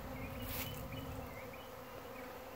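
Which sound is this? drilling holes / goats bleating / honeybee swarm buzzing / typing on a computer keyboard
honeybee swarm buzzing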